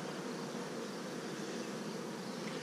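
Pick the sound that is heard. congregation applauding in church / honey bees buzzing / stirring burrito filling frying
honey bees buzzing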